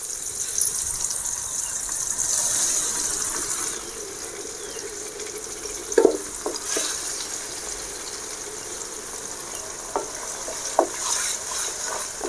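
Ginger garlic paste sizzles in oil for a country chicken curry, a steady close hiss with a few brief clinks and scrapes of a spoon; no voices.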